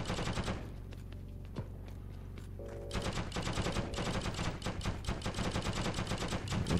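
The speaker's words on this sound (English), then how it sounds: "I hear an American sniper" Sniper and other gunfire in the World War II shooter game Heroes and Generals: a steady stream of sharp, rapid shots crackling over about seven seconds, growing slightly louder partway through, with no voices.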